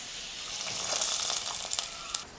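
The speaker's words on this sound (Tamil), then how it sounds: "முந்திரி திராட்சை நல்லா பொன்னிறமாக வறுப்பட்டதுக்கு அப்புறமா" Cashews and raisins frying in oil until golden for a sweet made from ration raw rice, giving a steady soft sizzle with light crackles and a sharp pop at the end, close and alone.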